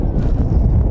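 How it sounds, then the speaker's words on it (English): Strong wind buffeting and howling across an outdoor grass airfield, a dense, loud low-frequency roar pressing hard on the microphone without a break. "The wind is just howling, howling."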